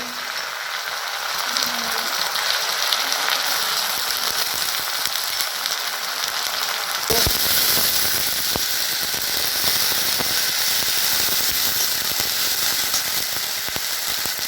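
Ginger garlic paste goes into browned onions frying in oil for chicken do pyaza, and a steady hiss jumps into a louder, crackling sizzle halfway through that continues close and busy to the end.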